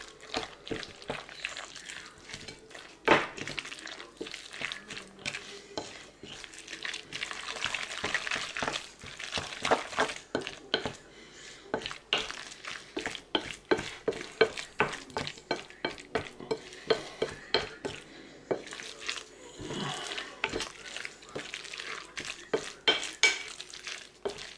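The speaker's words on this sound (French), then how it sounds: "Et je vais mélanger." Ground meat being mixed with chopped onions and two cracked eggs for an old-fashioned pâté en croûte, giving a steady run of close, wet squelching and slapping strokes with frequent sharp clicks throughout, no talking.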